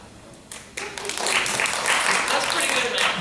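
Audience at a choir reunion breaks into clapping, starting faintly and swelling into sustained, fairly loud applause from many hands, with voices mixed in.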